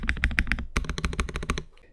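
Fast, crisp typing on an AKKO ACR PRO 75 mechanical keyboard with a poron-modded flexible mount and light AKKO CS crystal switches, dense keystroke clatter up close that stops near the end, with no talking.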